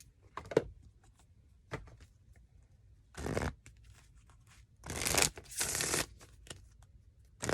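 Tarot cards are shuffled in quiet, close bursts: short riffles and slides separated by pauses, with a longer, louder shuffle near the end.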